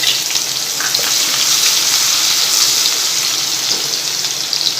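Finely chopped small onion sizzles steadily in hot oil in a pan for Mumbai-style pav bhaji, a close, even, crackling hiss that runs without a break.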